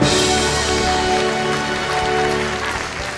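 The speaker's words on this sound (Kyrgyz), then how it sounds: "Кол чабуулар болсун." Applause for medal winners at a Kyrgyz school project awards event, a dense, steady clapping from a group that holds loud throughout the short stretch with no pauses, with faint tonal music or hum underneath.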